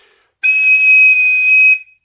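A tin whistle sounds one sustained high note in its third register, clear, bright and close, lasting just over a second with a tiny pitch drop at the end, alone with no other sound.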